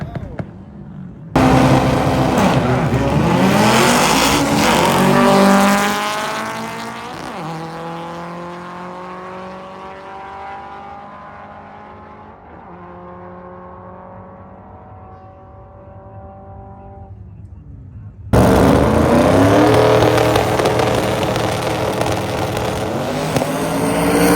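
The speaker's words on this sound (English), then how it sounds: "We got a lot of cars ranging in speeds, so we're going to just be showing you a couple of these cool passes right here." Drag race cars making passes at a sick week event, a loud roaring engine launch that fades as the car pulls away down the strip, followed by another car's engine blasting in close and loud.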